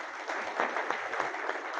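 A crowd at a political gathering gives a brief burst of steady, dense clapping, moderately loud and without speech over it.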